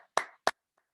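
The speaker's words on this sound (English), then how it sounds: "Just clap really quick" Two sharp, close hand claps a moment apart, the first with a slight ring-out, followed by a faint, brief tap. Sparse and loud rather than a full audience round.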